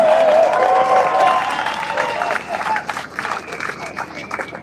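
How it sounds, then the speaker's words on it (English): Applause and cheering from a crowd at an outdoor farmers' protest over inheritance tax, loud and dense at first, then thinning into scattered claps and crowd noise with voices mixed in. "another big round of applause for Dominic"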